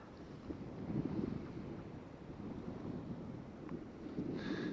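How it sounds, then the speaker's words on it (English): Strong wind gusting over open sea at Kennack Sands, Cornwall, from a drifting fishing kayak, a steady roaring rumble of microphone buffeting with faint lapping water throughout. "That wind is tearing."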